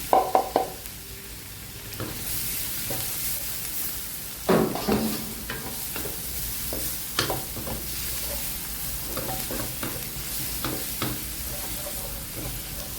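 A large amount of garlic browning in a pan before seafood is cooked, a steady hissing sizzle with occasional scraping stirs and a few louder clunks.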